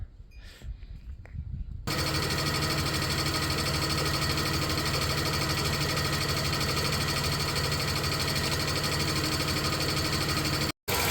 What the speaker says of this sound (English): Radiator fan just kicked on.